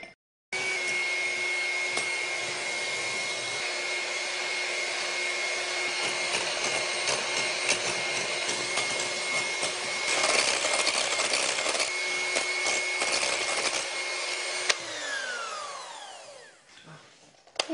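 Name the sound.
whipping cream with wasabi into chantilly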